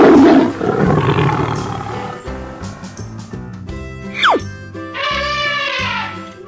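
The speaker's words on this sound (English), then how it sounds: "Tiger." A cartoon 3D tiger lets out a loud, close roar amid playful kids' game music, followed by a sliding whistle and bright chiming effects.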